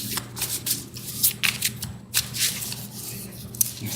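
Tarot cards being shuffled by hand, a rapid series of crisp riffling flicks and soft slaps, close and clear with no talking over them.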